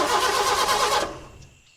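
A car's starter cranks harshly for about a second after the key is turned, but the engine never catches and the sound dies away into quiet. It is close and loud, with no talking.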